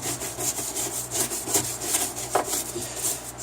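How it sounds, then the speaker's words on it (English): A brush scrubbing grime off the fins of a washing machine agitator: steady rapid back-and-forth rasping strokes, close and fairly loud, with no talking. "I can scrub and get everything off the side of these fins."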